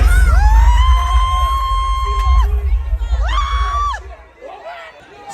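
A crowd cheers and whoops at the Soca Monarch 2024 competition after a placing is announced, loud bursts of shouts and whistles swelling and fading in waves.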